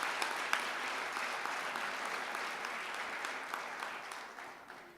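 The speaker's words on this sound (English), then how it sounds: "That deserves a round of applause" An audience applauding at a Peralta colleges 50th anniversary gathering during a chancellor's address, dense continuous clapping throughout that slowly fades toward the end.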